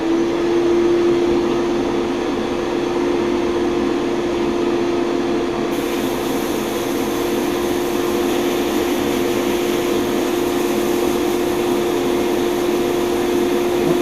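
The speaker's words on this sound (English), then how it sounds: "Well, the air compressor is running now" Air compressor running in a garage during work on a 1966 Ford Galaxie 500 convertible, a loud steady droning hum with a constant tonal whine, unbroken throughout.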